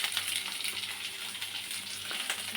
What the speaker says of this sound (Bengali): পটলটা ভেজে নিচ্ছি আগে